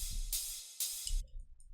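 A ride cymbal loop in a future trance production plays in two bright, sustained washes, each landing over a low thump, before dropping away to faint tonal remnants.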